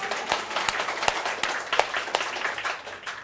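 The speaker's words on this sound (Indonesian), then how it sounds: "Kita berikan tepuk tangan dong ya." Scattered applause from a small audience at a women's church gathering, a few hands clapping unevenly with sharp individual claps over a soft murmur, lasting a few seconds.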